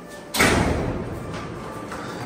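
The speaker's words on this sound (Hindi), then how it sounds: "दरवाजा बंद कर," A door is shut with a single loud, close slam that rings and fades over the next two seconds, with no voices heard.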